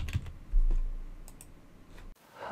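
Computer keyboard typing while entering a subprocess name in a Microsoft Visio diagram, a short run of light clicking keystrokes close to the mic, ending abruptly in near silence.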